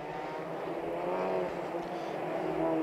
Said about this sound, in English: The field off onto their green flag formation lap.